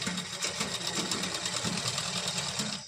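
A sewing machine stitches a blouse from the reverse side, running in a steady, fast, close whir before stopping at the end.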